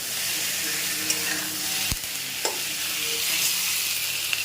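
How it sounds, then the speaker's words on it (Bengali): Potatoes frying in a pan, a loud continuous hiss and sizzle with a few sharp clicks of a utensil against the metal. "আলুগুলোকে ভাজতে হবে এইভাবে"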